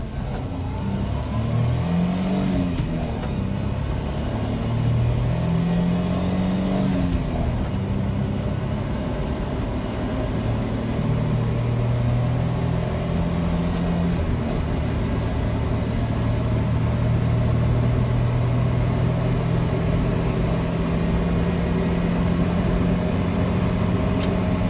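A turbocharged Suzuki Carry mini truck accelerates hard from a standstill toward 100 kph on a clear road, its small engine whirring and rising in pitch through several gear changes, loud and steady from inside the cab.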